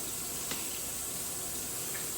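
Tap water runs steadily from a faucet while a pot is rinsed out in a sink, a constant close splashing hiss with faint knocks of the pot.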